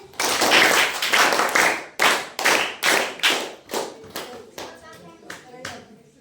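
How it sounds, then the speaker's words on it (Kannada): A classroom of children claps together in several loud, rhythmic bursts that gradually fade into scattered, softer claps, with some voices in between. "ಎಲ್ಲ ಇನ್ನೊಂದ್ಸರಿ ತಂಡ ಹೇಗೆ ಚಪ್ಪಾಳೆ ಹಾಕಿ."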